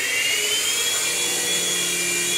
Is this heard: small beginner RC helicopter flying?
yes